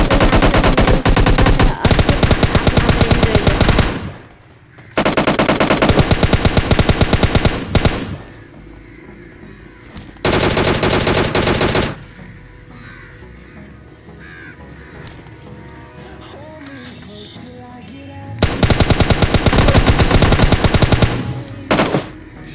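Loud, rapid automatic gunfire from the mobile shooter PUBG Mobile Lite, in long sustained bursts separated by brief quieter gaps, heard close and alone.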